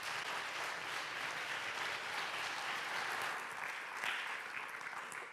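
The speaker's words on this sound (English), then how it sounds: "Let's give a big round of welcoming applause for Ambassador Page." An audience at an evening event on Africa hosted with the Association of Black American Ambassadors gives a big round of welcoming applause, dense and continuous clapping that holds steady throughout and tapers slightly at the end.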